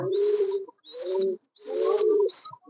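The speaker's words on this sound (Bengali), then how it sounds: "আমার এই কবুতর জোড়াটি মাত্র দুশো টাকা দিয়ে কিনেছিলাম" A pair of Giribaz pigeons coos nearby in three rounded, throaty phrases separated by short pauses, clear and alone with no other sounds.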